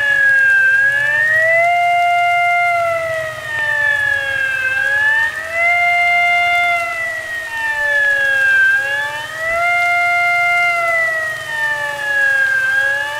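A loud flood warning siren wails continuously, its pitch slowly rising and falling in long sweeps, with a faint low hum underneath.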